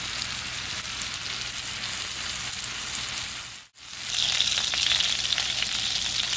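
Beef pieces fry in oil with a steady, dense sizzle, interrupted by a brief silent dip midway before the crackling resumes, with no voices.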